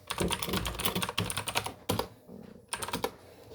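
Fast, uneven clatter of keys being typed on a computer keyboard while entering commands in a Linux terminal, close and fairly loud, with short pauses between bursts and no talk.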